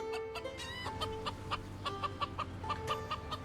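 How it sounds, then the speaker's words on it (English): Chickens cluck in Farming Simulator 17, a busy run of short, repeated clucks and squawks from several birds at once, steady and fairly close over a constant farmyard background hum. "I hear the call of the chickens"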